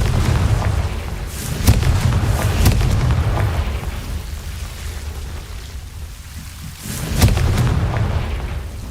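A Confringo fire spell detonating in Hogwarts Legacy, a deep rumbling boom with a long roiling low-end tail and a few sharp crackling hits, loud and close, followed by a second burst near the end.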